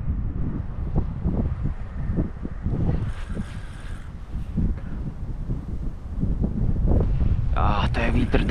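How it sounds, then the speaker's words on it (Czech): Strong wind at a lakeside fishing spot in foul weather buffets the microphone in low, gusty thumps and rushes that rise and fall irregularly, with a voice talking briefly amid the noise. "To je vítr."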